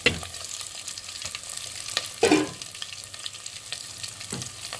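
Boiled chicken pieces frying in a pan for Mysore-style pulihora, stirred with scraping strokes over a steady sizzle, one louder stir near the middle, no voices.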